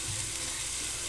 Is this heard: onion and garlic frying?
yes